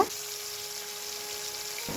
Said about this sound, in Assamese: মাছখিনি মই ভাজি ল'ম